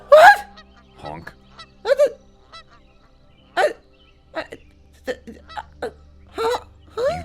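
An avatar in the game VRChat honking like a goose, a string of short, sharp honks spread irregularly over several seconds, loud and close, with a little talk between them.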